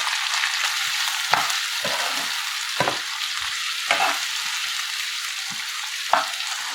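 Tomatoes, coriander and curry leaves sizzle steadily in a pan for a Tamil mutton meatball curry, with a constant frying hiss broken by repeated scraping stirs of a spoon.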